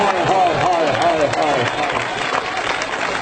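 A crowd at a night volleyball match in Pakistan claps and cheers in a dense, continuous wash of noise, with an announcer's voice carrying over the applause.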